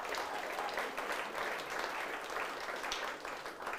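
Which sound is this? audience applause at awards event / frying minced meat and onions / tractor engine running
audience applause at awards event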